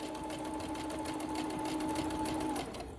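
A sewing machine runs steadily, stitching a tote bag seam with a fast, even mechanical whir and tick, close and fairly quiet, then slows and stops near the end.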